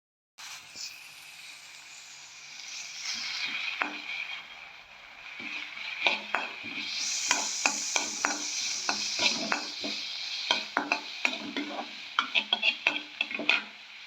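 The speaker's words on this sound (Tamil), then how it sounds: "நறுக்கி வச்சுருக்கிற வெங்காயத்தை சேர்த்து வதக்கிக்கலாம்." Onions sizzle steadily in hot oil while stirred in a pan, with frequent scraping clicks of a utensil against metal, close and moderately loud.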